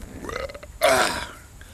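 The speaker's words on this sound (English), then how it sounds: "another belch" A man lets out a single loud, drawn-out belch after drinking Tallgrass Halcyon unfiltered wheat beer, close and alone, following a short quieter stretch.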